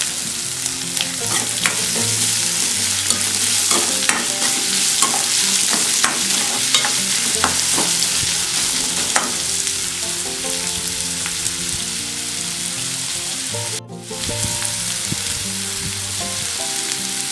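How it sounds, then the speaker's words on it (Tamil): A large, finely chopped onion sizzles loudly in a pan for fish curry, with the continuous frying broken by close scraping stirs and no talking. "ஒரு பெரிய சைஸ் வெங்காயம் நல்லா பொடியாக இருக்குது, இது நல்லா வதக்கி வச்சுக்கலாம்."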